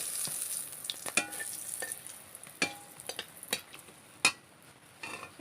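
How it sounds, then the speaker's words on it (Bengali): Bay leaves, a dried red chili and cinnamon frying in hot oil as tempering for a Bengali egg and potato curry, a steady faint sizzle broken by sharp crackles and pops, with no talk. "এগুলোকে একটু ভেজে নেব।"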